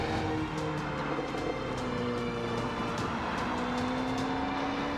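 A Mercedes CLA, a small front-wheel-drive German car, driving along with a steady engine hum and road roar, tones rising gradually as it accelerates, with faint rattles and ticks on top.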